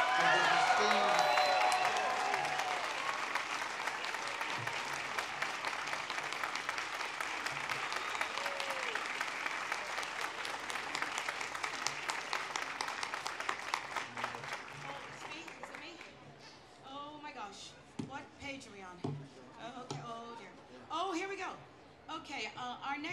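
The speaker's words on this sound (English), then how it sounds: "Let's have a round of applause for the esteemed." Audience applause at the AIDS Walk New York opening ceremony, a loud sustained round of clapping from a large crowd that fades after about fifteen seconds into scattered claps as a speaker's voice returns.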